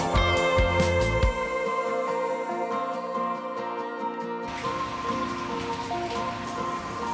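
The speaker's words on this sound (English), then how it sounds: "Just when I arrived, the storm started." Rain during a storm in Siena, a steady wash of falling water under a layer of tonal sounds that shift partway through, with no voices.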